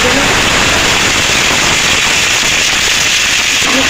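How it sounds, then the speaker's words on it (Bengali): Coconut frying in hot oil in a pan, a dense, continuous sizzle and crackle held at close range throughout. "তেল গরম হয়ে গেছে প্রথমে আমি নারকেলটাকে একটুখানি ভেজে নেব"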